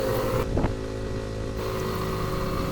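A motorcycle engine drones steadily at close range, straining under load while climbing a bumpy uphill road, with a constant rumbling roar and wind buffeting.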